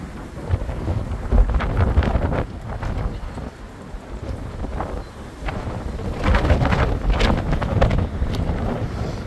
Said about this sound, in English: it's very windy.